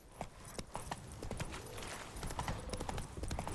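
Horse hooves trot in a steady clip-clop rhythm through The Witcher 3, close and fairly loud over a low game ambience.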